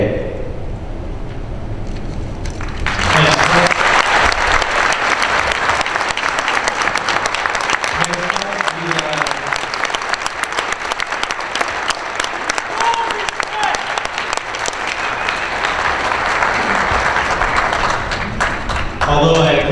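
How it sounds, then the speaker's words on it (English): A public forum audience bursts into loud, sustained applause after a quiet opening, mixed with crowd cheers and voices, continuing for about seventeen seconds. "Although I appreciate the applause"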